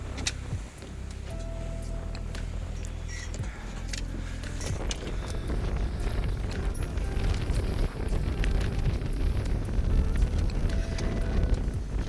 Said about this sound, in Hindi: तेज जो हवा चल रही है